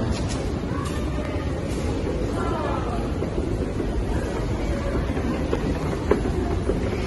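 A London Underground Piccadilly line train runs with a loud, continuous rumble and rattle, wheel squeal rising briefly, heard from inside the moving train.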